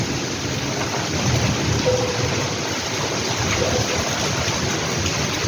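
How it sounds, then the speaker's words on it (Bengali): Thunder rumbles through a heavy rainstorm in Belgharia, a dense continuous roar of pouring rain with low booming swells, steady and close throughout. "এসব মেঘ ডাকছে।"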